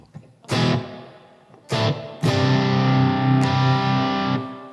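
Electric guitar played through a Blackstar AMPED2 amp with plate reverb: three loud, distorted strummed chords, each ringing out with a lush reverb tail. No voices.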